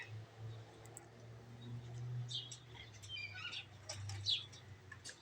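Faint, scattered bird chirps and short tweets sound outdoors against a steady low hum, spread irregularly across the stretch with no single call standing out.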